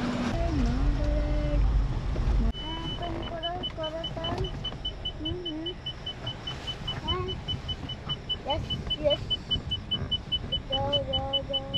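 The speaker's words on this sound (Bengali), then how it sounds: "এই যে গাড়ি এখানে পার্ক করে দিলাম সুন্দর পার্কিং জায়গায়" A car pulling into a parking spot near a banquet hall: a low engine rumble cuts off after a couple of seconds, leaving a quieter cabin with faint beeps and soft voices.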